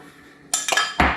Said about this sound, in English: Whole time we just want to keep stirring this roux